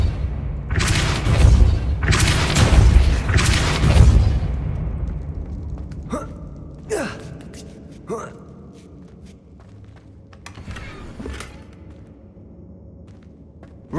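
A Depulso force spell is cast in Hogwarts Legacy, starting with heavy booming blasts that roll for several seconds and then thinning into scattered lighter thuds and clicks over a quieter ambient bed.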